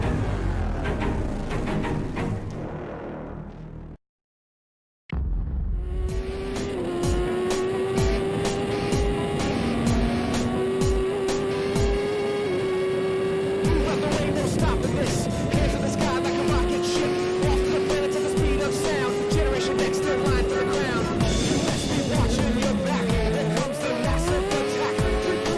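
Race cars in the iRacing sim at Daytona during an Xfinity Series event, engines droning loud and steady with rising and falling pitch as cars pass, after a brief cut to silence near the start.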